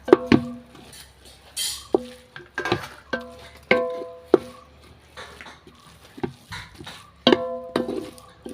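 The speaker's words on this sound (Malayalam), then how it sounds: "അതൊന്നിട്ട് നമ്മൾ നല്ലോണം ഇളക്കി കൊടുക്കാം" A spoon scrapes and knocks against a pot while chicken biryani masala with pepper powder is stirred, producing repeated close metallic clinks and scrapes at irregular intervals with no talking.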